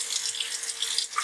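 Water runs from a tap to wet a stone model and its surroundings before wet sanding with 220-grit paper, a brief, steady, close hiss of flowing water.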